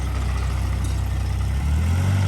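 A 2022 Sany SY16C mini excavator's engine drones steadily up close, its low hum rising in pitch and loudness as the throttle is opened.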